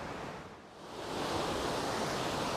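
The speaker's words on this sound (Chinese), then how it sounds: "我要到那个瀑布下面去装一下" Waterfall at Yangpidong in the Guizhou mountains, swollen after recent rain, roars as a steady broadband rush of falling water, loud and continuous, with no voices.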